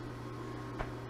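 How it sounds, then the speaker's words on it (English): Rotary phase converter humming steadily in a machine shop during a Boyar Schultz surface grinder refurbish, a constant low electrical drone with one faint brief click, no talking. "What you hear is my rotary phase converter."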